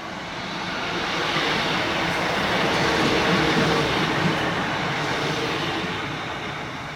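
A two-coach class 156 diesel train idles nearby at Hykeham station, a broad steady rumble that swells and then slowly eases off, with no voices.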